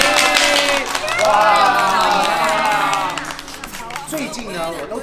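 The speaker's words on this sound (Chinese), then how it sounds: "大家掌声欢迎" An excited crowd at a Hong Kong Disneyland filming wrap-up greets the director with clapping and loud cheering voices, a lively mix that stays strong and then eases slightly near the end.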